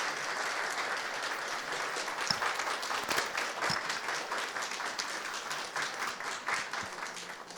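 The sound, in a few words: audience applause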